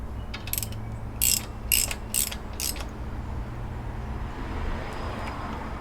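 Ratcheting clicks from tightening an alternator fitting on a Subaru Impreza: a few quick bursts of ratchet clicks early on, close and fairly clear over a steady low engine-bay hum, then only the background drone.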